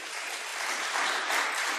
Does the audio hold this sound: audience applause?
yes